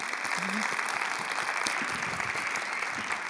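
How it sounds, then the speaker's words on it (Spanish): Audience at a coaching marathon event in Las Rozas applauding steadily, a dense continuous clapping that fills the room at a constant level for a few seconds, with a brief voice briefly audible early on. "Así que, por favor, recibamos con un fortísimo aplauso a Cristina Soria para hablarnos del silencio"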